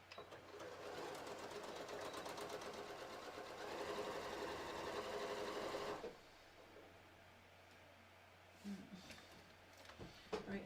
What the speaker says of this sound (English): I'm going to sew through both seam allowances and the fabric.